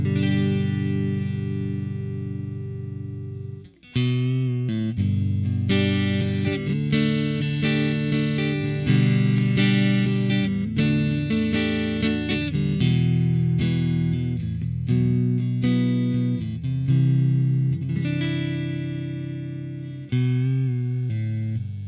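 An electric guitar played through an original SansAmp rack preamp gives sustained distorted chords and riffs with chorus-like shimmer, loud and continuous, with a brief break near the start.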